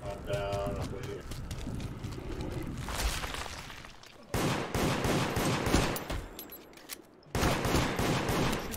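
Video game gunfire rings out during a match of Deceit, with sharp rapid bursts and fusillades in several loud clusters separated by brief lulls, while players talk excitedly over the shots.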